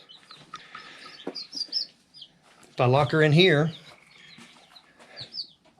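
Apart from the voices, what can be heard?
hen clucking inside a coop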